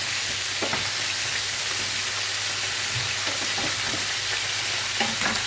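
Chicken pieces frying in a pan for Saudi-style kabsa, turned onto the other side, with a steady dense sizzle and hiss and a few faint knocks, loud and continuous with no talking.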